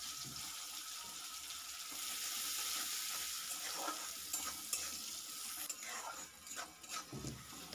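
Chopped onions sizzle in a hot pan with oil and whole spices while being stirred, a steady soft frying hiss with faint scraping of the spoon.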